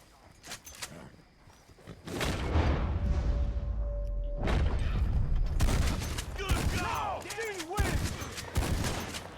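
Shotgun blasts and scattered gunfire ring out in the Red Dead Redemption II video game, sharp loud reports over a rumbling bed, with someone speaking French between the shots.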